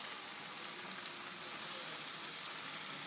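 Aloo gosht curry with coriander and green chillies being mixed in a hot pot gives a steady, dense sizzle and frying hiss that runs unbroken and fairly close, with no talking.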